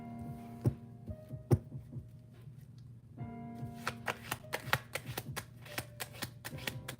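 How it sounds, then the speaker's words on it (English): Tarot cards are shuffled close by as a rapid run of crisp riffling clicks and taps, with a short pause before the shuffling resumes more steadily. "before I finish shuffling"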